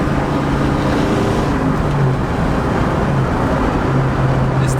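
A 700hp supercharged two-valve Ford Mustang engine pulls steadily at quarter throttle in fourth gear, a continuous loud low rumble with a rising whine, close and unbroken throughout.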